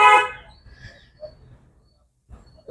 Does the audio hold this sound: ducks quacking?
no